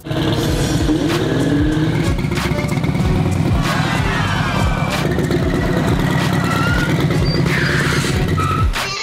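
A motorbike engine rides up close and loud, its steady rumble swelling with revs for several seconds, with faint voices in the background.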